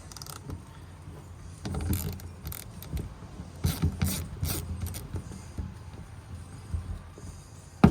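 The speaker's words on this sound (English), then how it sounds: "Get the ratchet on there." Ratchet clicking as it turns a bolt on a Ford F150 2.7 engine, close and fairly quiet, in short uneven bursts of ratcheting with some rubbing and handling noise between, no talk.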